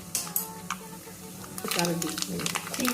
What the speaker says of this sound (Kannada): ಈಗ ಒಂದು ಪ್ಯಾನಲ್ಲಿ ಮೂರು ಟೀ ಸ್ಪೂನ್ ತುಪ್ಪ ಹಾಕ್ಕೊಳ್ಳಿ ಸಾಸಿಗೆ ಒಂದು ಟೀ ಸ್ಪೂನ್